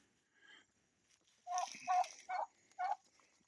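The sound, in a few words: turkey gobblers gobbling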